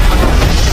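A bomb planted by ISIS fighters detonates in a Middle East war action film: a loud, continuous low rumbling blast with no speech.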